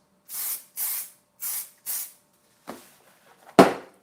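Aerosol fixative sprayed onto a pastel car drawing in four short, even hissing bursts close by, followed by two weaker, rougher sputtering sprays.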